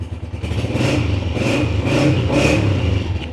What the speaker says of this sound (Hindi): CG125 स्पेशल एडिशन की आवाज़ की तो क्या बात है।